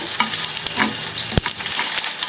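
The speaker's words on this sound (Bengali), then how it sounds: "তাওয়াটা গরম করে একটু তেজপাতা দিয়ে দিয়েছি এবার দেব জিরে গোটা সাদা জিরে তো এটাকে একটু রোস্ট করে নেবো" Whole white cumin seeds and a bay leaf dry-roast on a hot tawa, giving a steady close crackling sizzle with light scraping stirs and one sharper tap midway.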